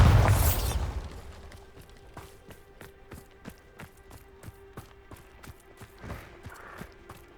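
A Bombarda spell detonates with a loud, booming explosion at the start in the Hogwarts Legacy video game, then fades into a quieter stretch of scattered clicks, footsteps and low game ambience.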